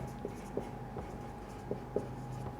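A pen writes math working on paper at close range, making soft scratchy strokes with occasional light taps over a steady low room hum. No voice is heard.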